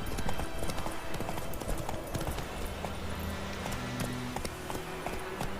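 Hooves of the horse Roach gallop in a fast, steady clip-clop rhythm in The Witcher 3, with soft game ambience behind and a voice speaking briefly.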